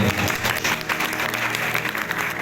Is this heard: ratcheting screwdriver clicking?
no